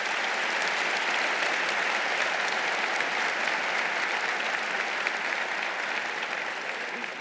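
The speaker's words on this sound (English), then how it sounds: "Let's give a round of applause to the Thurnau professors." A university honors convocation audience applauds steadily for the honored professors, a dense even wash of clapping from a large crowd that holds at constant strength throughout.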